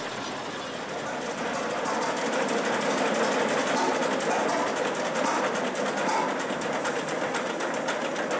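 A tractor engine in Farming Simulator 2013 runs with a rough, rapid mechanical chatter, a steady buzzing drone that swells in after a second and holds loud throughout.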